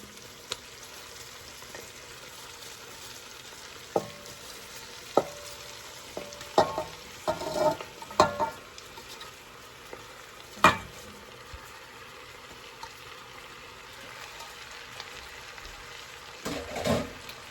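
Cabbage and bacon fry in a pan, giving a faint steady sizzle broken by scattered scraping stirs and clanks of a spoon, the louder strokes coming in bunches partway through and again near the end.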